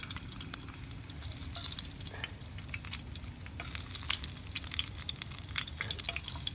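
Fresh celery cooking in a pot over a small campfire on an October wild camp, giving a close, steady sizzle and bubbling crackle with scattered pops and drips, no voices.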